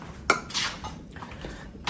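A metal pot clanks and scrapes against a stovetop as it is handled and set down on the burner, several sharp knocks and clatters spread out over a couple of seconds in a quiet kitchen.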